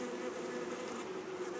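A dense, steady drone of many honey bees buzzing together in a hive, close and continuous, with no voices.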